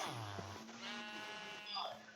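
A Minecraft sheep bleats in a short wavering cry, then a second quivering bleat follows, fairly close and clear against a quiet game background.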